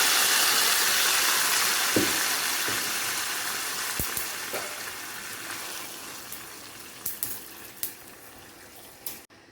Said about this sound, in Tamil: பாருங்கள், தாளித்து நம்ம குழம்புல ஊற்றிடுறோம்.